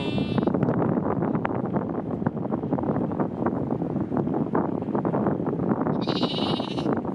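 Strong wind buffets the microphone in a constant low roar throughout in New Zealand, with a sheep bleating faintly near the start and again toward the end.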